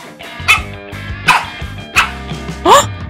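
A pet dog barks four times, loud and close, at roughly even intervals over a steady tonal background.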